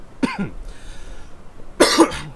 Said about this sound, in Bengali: কাশি হবে মাঝে মাঝে কথা বলতে গেলে